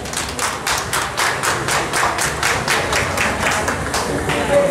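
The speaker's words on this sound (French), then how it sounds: "Applaudissez les parents, s'il vous plaît." A graduation audience applauds the parents with steady, dense clapping from a large crowd, loud and continuous throughout.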